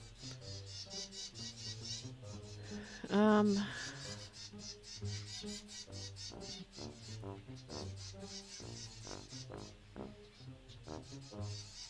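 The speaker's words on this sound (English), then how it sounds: "And you can hear my birds going nuts in the background." Pet birds chirp and whistle busily in the background of a room, with one louder, rising whistle standing out. Quieter rhythmic game sounds run through the whole stretch.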